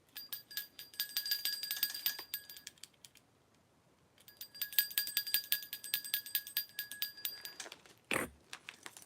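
Rapid bright bell ringing sounds in two long bursts separated by a pause, followed by a short low thump; no one speaks.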